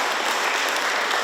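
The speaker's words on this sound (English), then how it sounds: "yes, we can clap for that." Audience at a school band concert clapping in a brief, even burst of applause, moderately loud and without talk.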